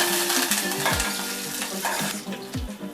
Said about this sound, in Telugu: ఎండుమిర్చి వేగిన తర్వాత కరివేపాకు వేసుకోవాలి